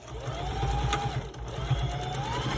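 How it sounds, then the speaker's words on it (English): A sewing machine runs steadily and close up, stitching a short seam with a back stitch to close a small fabric handwarmer, its motor whirring continuously without pause. "Put your presser foot down, stitch a little, back stitch,"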